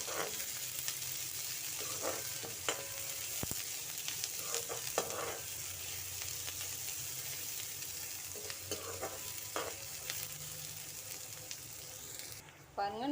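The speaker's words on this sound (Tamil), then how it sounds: "வெங்காயத்தை நல்லா பொன்னிறமாக ஆகிற வரையும் வறுத்து எடுங்க அஞ்சு நிமிஷம் வறுத்து எடுத்துக்கோங்க" Onions frying in a pan for brinjal gravy, a steady close sizzle with occasional stirring scrapes and clinks throughout, no talk over it.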